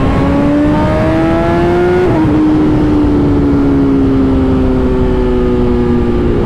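A 2021 BMW S 1000 RR sport bike pulls hard in third gear, its engine note climbing steadily and loud with a brief dip near the two-second mark before rising again, no voices.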